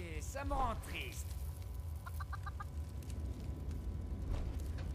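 Chickens clucking in the Fallout 76 video game, a few short clucks and calls near the start and again in the middle, heard over steady game background noise with no talk.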